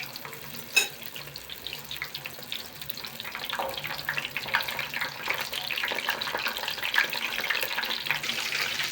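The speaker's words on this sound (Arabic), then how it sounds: "وده الحادق هيتقلى وبرضو نحطوه في طبق لوحده" Savory qatayef frying in hot oil, a steady, soft bubbling sizzle that holds at an even, modest level throughout, with a single brief clatter near the start.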